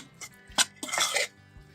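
A utensil scrapes and taps against a bowl in a few short bursts, close up, with a brief swirl of mixing flour in the middle.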